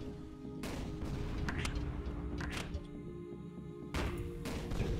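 Cannon shells firing in the first-person shooter Tower of Guns, loud booming shots in several bursts over a dense, constant background of in-game noise.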